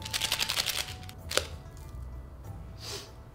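A McDonald's nori fries package being opened, with a quick run of crisp paper crinkles followed by a sharp tear and faint rustling.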